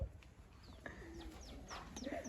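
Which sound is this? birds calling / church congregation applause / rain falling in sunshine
birds calling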